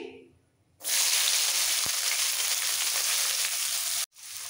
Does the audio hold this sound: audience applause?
no